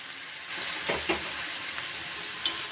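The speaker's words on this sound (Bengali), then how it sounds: "পরিমাণ মতো গরম জলটা দিলাম" Hot water poured into a pan of paneer and peas, a steady bubbling sizzle with a few soft knocks from a utensil and a sharp tap near the end.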